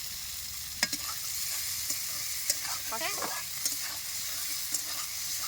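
A spice paste with ginger fries in oil and is stirred in a pan, a soft steady sizzle broken by light scraping and clicking of a spoon, with no voices.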